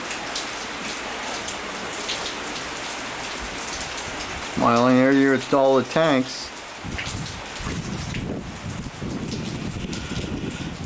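Rain falls steadily on a tropical lagoon shore, a dense hiss throughout that is briefly covered by a voice in the middle, with a few softer voices and movements near the end.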